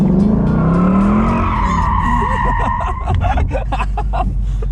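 A rear-wheel-drive car accelerates hard with loud, sustained tire squeal and a rising engine note, the screech continuing throughout at close range.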